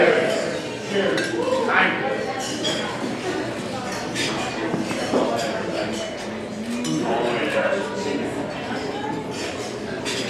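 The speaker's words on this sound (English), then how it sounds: "I ask all of you to raise your glass and wish Dan and Monica and their lovely family all the best" During a wedding toast, glasses clink over and over amid a busy reception crowd, bright chinks scattered across a steady background of many people chatting and cheering.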